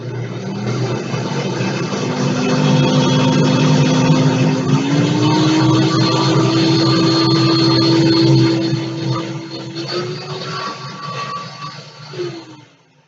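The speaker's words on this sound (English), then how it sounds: "So I don't like blending things for a long time if I don't have to because I don't love the noise." A Ninja blender runs on its puree setting with a loud, steady motor whine whose pitch climbs slightly partway through, then winds down near the end.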